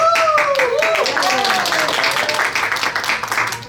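An audience claps and cheers loudly for a graduate speaking at the Lawrence International Book Fair at the public library, with dense, continuous clapping and excited voices calling out over it.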